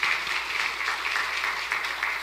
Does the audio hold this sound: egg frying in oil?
no